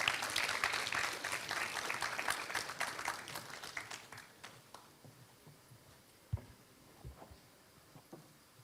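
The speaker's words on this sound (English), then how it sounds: "Please give him a big round of applause." A crowd at the Eco Warrior Awards 2024 ceremony in India applauds the chief guest, loud at first and then thinning into scattered claps and a few sharp knocks over the final seconds.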